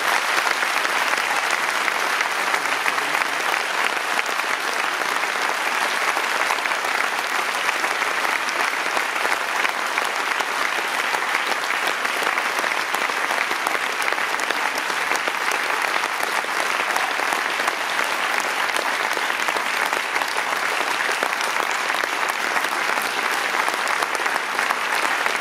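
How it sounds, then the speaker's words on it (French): A large audience at a charity musical comedy show applauds steadily for about twenty-five seconds, a dense, even wash of clapping with no pause and no voices. "j'aimerais accueillir sur scène, sous vos applaudissements, Marie-Claude Perti, le professeur Créant et"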